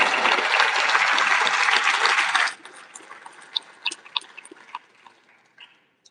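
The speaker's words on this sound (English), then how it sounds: "Round of applause for our supporters." Audience applause for supporters at the Best Ranger Competition awards supper, a loud dense burst of clapping that cuts off abruptly after a couple of seconds, leaving scattered individual claps trailing away.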